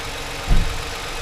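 A 2007 Toyota car engine idling after a check engine light repair, a steady close rumble with one brief low thump partway through.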